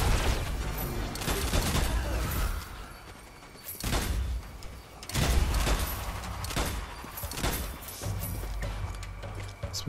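Gunfire and explosive blasts in the Strange Brigade video game, with a grenade going off: loud broadband bursts and rattling volleys come in several waves over a low rumble.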